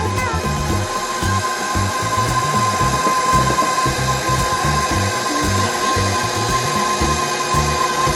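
A kitchen mixer whirs steadily and loudly, churning chocolate chip cookie dough without a break and with no voices.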